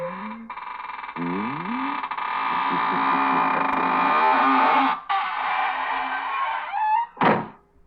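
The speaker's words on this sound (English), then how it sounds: "now it's time to close the squeaking door" A squeaking door slowly closes in a 1940s radio mystery drama, drawn-out creaking groans rising and wavering over a low hum before a final short squeal and a soft thump as it shuts.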